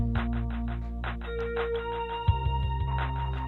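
A phone ringtone plays alone: a steady electronic melody of bright tonal notes, clear and moderately loud, with a low thump midway.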